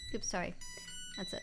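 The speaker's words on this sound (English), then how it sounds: "Sorry, that's my alarm." A phone alarm rings in a repeating electronic tone, steady beneath a person's apologetic speech, close and fairly prominent.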